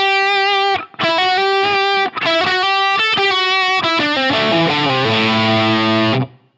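Electric guitar through a Line 6 Helix LT processor with a boosted, distorted tone plays sustained chords and a descending run, loud and ringing, with brief pauses between phrases.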